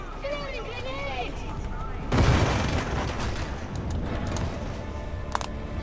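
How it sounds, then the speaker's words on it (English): A thrown grenade explodes in Warhammer 40,000: Darktide with one sudden loud boom, whose rumbling, crackling aftermath lingers for several seconds. A brief voice-like warbling sound comes just before. "Throwing grenade!"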